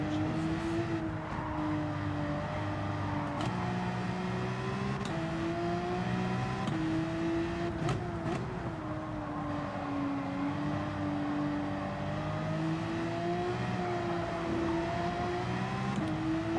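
An old Porsche 911 engine in Gran Turismo 7 drones steadily on the Nurburgring GP circuit, a sustained, even engine note with small pitch shifts as the car holds speed, loud and alone without talk.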